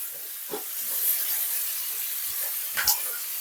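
Vegetables sizzle in a hot pan for a pork pie filling, a steady soft hiss with occasional small pops and stirring knocks close by.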